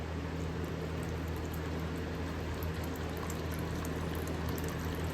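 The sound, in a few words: water being poured into a protein mix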